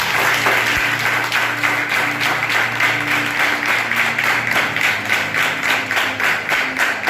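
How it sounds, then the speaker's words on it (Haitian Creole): Church congregation applauding during a worship service, steady rhythmic clapping sustained throughout with a low background hum, moderately loud and dense. "Applaudissez tout le monde."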